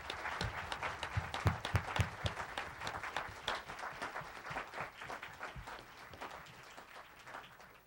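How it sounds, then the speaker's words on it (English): Scattered, fairly quiet applause from a modest audience at a candidate forum, individual claps distinct and uneven, tapering off toward the end. "I think at this time a round of applause for all of them."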